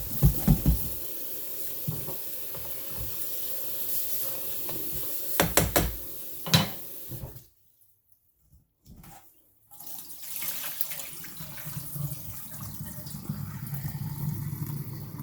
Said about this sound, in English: Let's do one more rinse.